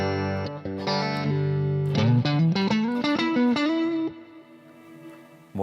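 Electric guitar played through an amp with Echoplex tape echo and reverb, a short run of clean, sustained picked notes climbing in pitch, each trailed by a repeating echo before fading into a soft reverb tail.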